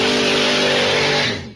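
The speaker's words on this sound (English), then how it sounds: "it sounds like you're revving an engine" Car engine revving hard and loud in one sustained roar, holding high for over a second before cutting off sharply at the end.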